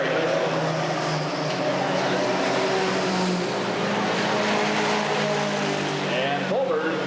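A mini stock race car is driven hard through a turn in a 1989 main event at Redwood Acres Raceway. A steady engine roar carries over dense track noise, with a faint voice in the background.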